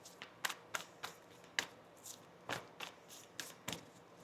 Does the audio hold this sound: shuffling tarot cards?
yes